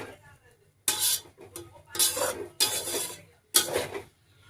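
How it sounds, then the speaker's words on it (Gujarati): Poha being stirred in a pan over low heat, four distinct bursts of scraping and rustling strokes separated by brief quiet gaps. "એવી રીતે આપણે એને ધીમે ધીમે હલાવતા રહીશું અને ગેસ ધીમો કરી દઈશું"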